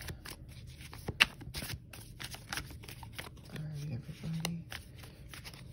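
Playing cards shuffled near the mic in a quiet room, several soft riffling bursts with a sharp snap early on, faint and close, under light background noise.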